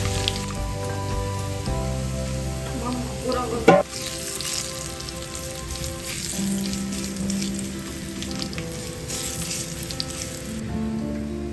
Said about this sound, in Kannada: ಬೆಳ್ಳುಳ್ಳಿ ಚೆನ್ನಾಗಿ ಬ್ರೌನ್ ಕಲರ್ ಬರಬೇಕು, ಆಗ ಮಾತ್ರ ಒಳ್ಳೆ ಟೇಸ್ಟ್ ಆಗಿ ಪರಿಮಳ ಚೆನ್ನಾಗಿ ಫ್ರೈ ಆಗಿ